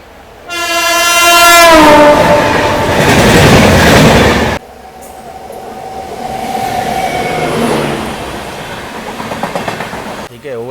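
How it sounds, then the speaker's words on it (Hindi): Passenger trains overtake and cross on the Lucknow to New Delhi line, heard from a general coach: a loud passing horn blast, then the rushing roar and rattling clatter of carriages going by close, fading toward the end. "ऐसे ना जाने कितने ओवरटेक और कितने क्रॉसिंग देखने को मिलेंगे इस रूट पे"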